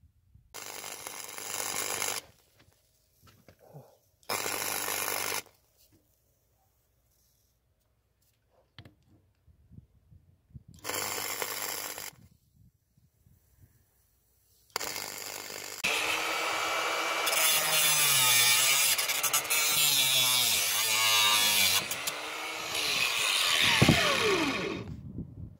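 A power tool cuts through a part on a 103 Fox Racer moped, first in short separate bursts with pauses, then in a long loud continuous run with a wavering, rising and falling pitch.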